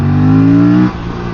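An Aprilia RS 457 twin-cylinder motorcycle of almost 500 cc revs hard, a loud steady engine drone that drops off abruptly near the end, close and alone.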